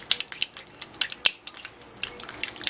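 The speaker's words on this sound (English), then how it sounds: "I'm going to stir around our strawberry jam in case it got any lumps in it" A spoon stirs through thick strawberry jam in a bowl, giving close, irregular wet clicks and squelchy scrapes with small sticky pops, no talking.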